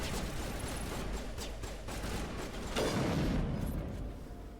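Sustained gunfire in the video game Mass Effect 1, a dense continuous rattle of shots with a heavier burst near the end, running steadily without talk.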